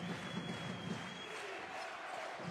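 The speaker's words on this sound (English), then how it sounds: "The applause of the crowd." A basketball arena crowd at a Champions League game applauds and cheers in a steady, broad wash of sound that holds throughout, heard from a distance.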